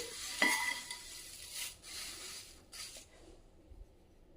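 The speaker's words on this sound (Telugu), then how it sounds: "కలిసే వరకు ఇలా బాగా కలుపుకోండి" A spoon tosses puffed rice with salt, chili powder and spices in a bowl for masala muri, making dry, crisp rustling and scraping strokes up close that thin out toward the end.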